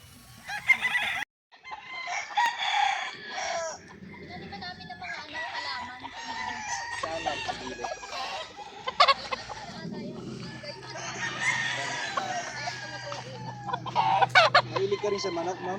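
Roosters crow repeatedly and chickens cluck around a Filipino poultry seller's flock, loud and close, with overlapping calls and a few brief human sounds mixed in.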